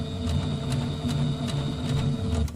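A domestic sewing machine stitching back and forth at the end of a seam on a Kimberbell pillow wall hanging, a steady close mechanical whirr with rhythmic needle ticks over about two and a half seconds, no talk.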